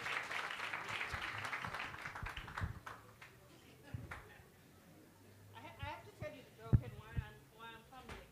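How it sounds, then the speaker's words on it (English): An audience at a business talk event applauds: a burst of scattered clapping for roughly three seconds, then a speaker's voice carries on with a few faint taps and claps beneath. "Please, can you give her a round of applause one more time?"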